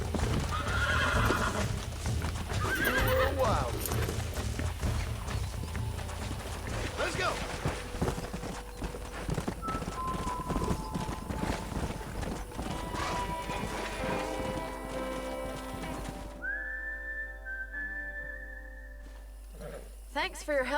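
A horse in the Red Dead Redemption video game neighs and whinnies while its hooves clip-clop at a gallop, loud and close over a steady low rumble, with voices talking at times.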